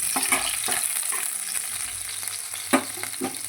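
Fenugreek leaves frying in a pan give a steady, close sizzle with a few sharp crackles and spatters, with no one speaking.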